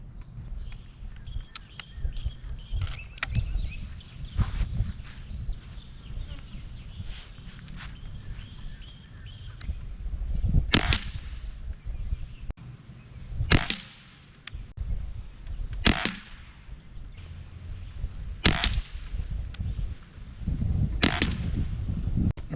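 Beeman Commodore air rifle firing 20.52-grain slugs outdoors, five sharp evenly spaced cracks in the second half over a low, rumbling ambient background.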